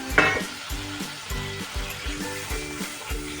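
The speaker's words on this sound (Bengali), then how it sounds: "এবার মশলাটাকে ভালো মতো কষিয়ে নিতে হবে।" Spice paste of ground poppy seed frying in a pan, a continuous close sizzle with a regular pulsing rhythm of stirring strokes, plus a brief sharp clink near the start, no voices.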